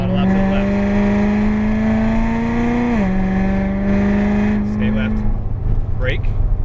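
A Corvette Z06's engine pulls hard on the track at Las Vegas Motor Speedway, its steady rising drone dipping once at a gear change before climbing again, loud and close under a driving instructor's coaching.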